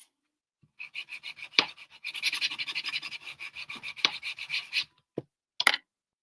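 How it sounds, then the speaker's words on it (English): Rapid rhythmic scratchy rubbing strokes of hand sanding paint off wood, close and fairly quiet, in bursts with a few short pauses between. "paint that I'm sanding off"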